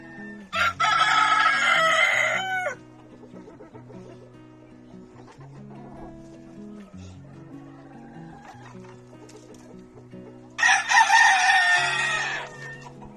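Chickens cluck and mutter softly throughout, with two loud rooster crows bursting in near the start and again near the end, close by and with no talk.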